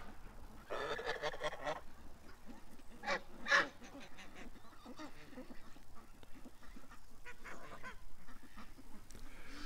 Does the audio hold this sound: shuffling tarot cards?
no